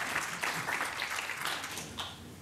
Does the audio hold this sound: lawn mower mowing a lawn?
no